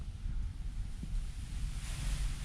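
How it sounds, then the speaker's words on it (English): Strong wind blows outdoors on a blustery day, a constant loud rumbling gust noise buffeting the microphone with no talk. "proper windy day"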